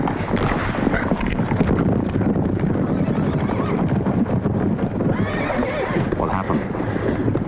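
A horse whinnies and neighs while hooves clip-clop steadily in an ancient battle scene, with continuous rumbling wind-like noise beneath and a second whinny near the end.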